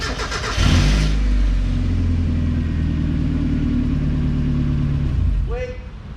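Mazda Miata engine starting and running steadily while the car backs out of a garage, a loud close idle rumble with a slight rev, then cutting off abruptly, with a brief voice at the end.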